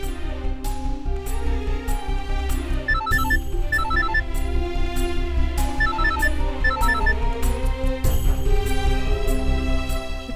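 A phone ringtone chimes repeatedly at night, a patterned melodic ring looping over steady background music, with no talking.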